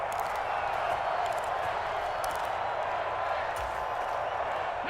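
A stadium crowd in the Madden NFL 25 football video game roars steadily at a big play late in a close game, a dense, constant wash of cheering that holds at even loudness throughout.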